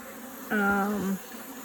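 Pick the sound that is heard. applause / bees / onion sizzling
bees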